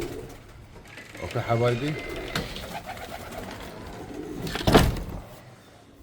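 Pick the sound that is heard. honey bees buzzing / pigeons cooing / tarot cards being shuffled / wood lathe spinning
pigeons cooing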